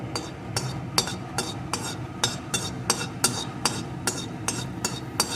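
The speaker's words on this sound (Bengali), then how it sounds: "এখন এলাচটা একটু ভেজে নেব।" Two cardamom pods fry in hot ghee in a wok while a metal utensil stirs them, giving a steady rhythm of sharp, close clinks and scrapes over a low sizzle.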